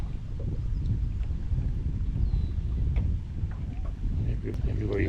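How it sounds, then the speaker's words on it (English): Wind blows in across a grassy fishing cove, a steady low rumble buffeting the microphone without letup. "as you hear, the wind is blowing right in on my"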